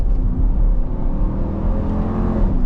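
A 2025 Dodge Durango R/T with the 5.7 HEMI V8 gives a deep, loud exhaust rumble, holding a sustained throaty growl close by with slight surges and no talk over it.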